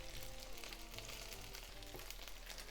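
Chicken pan-frying in a pan as sweet chili soy sauce goes in, giving a faint, steady sizzle and crackle close up, with a low hum underneath and no talking.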